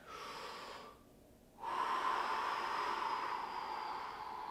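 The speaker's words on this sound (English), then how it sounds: "And then again, another big deep breath." A long, deep breath is drawn in and let out during a hips, hamstring and back stretching session: a soft airy exhale, a brief quiet pause, then a stronger, sustained breath close to the microphone.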